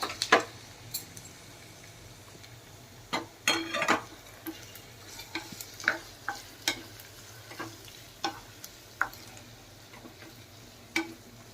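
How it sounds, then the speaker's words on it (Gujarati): A vegetable curry being stirred in a pan over low gas, with intermittent scraping and clinking of a spoon against the metal over a faint frying background, fairly close and without talk. "હવે શાક હલાવી લે"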